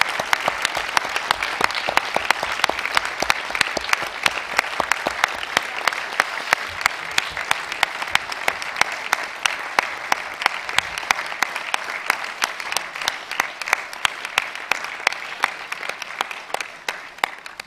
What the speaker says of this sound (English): I would like to give a round of applause on behalf of host